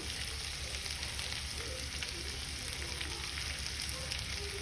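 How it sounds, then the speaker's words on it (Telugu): Chicken pieces fry in hot oil until crisp, giving a steady, even sizzle with fine crackling throughout and no voices. "ఇప్పుడు దీన్ని అయితే మంచిగా క్రిస్ప్ లేయర్ వచ్చేదాకా అయితే ఫ్రై చేసుకుందాం"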